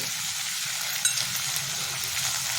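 Whole spices frying in hot oil for pulao give a steady, fairly close sizzle with one brief clink partway through and no voices.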